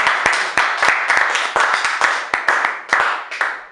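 A church congregation claps in a steady, rhythmic beat, loud and close, the sharp hand claps repeating for several seconds with a bright echo and no voices over them.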